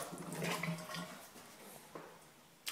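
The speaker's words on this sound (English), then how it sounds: "Water's on." Water running in a house bathroom during a property walkthrough, a faint steady rushing and trickling like a flush or tap filling, heard quietly at a distance with small splashes and no speech.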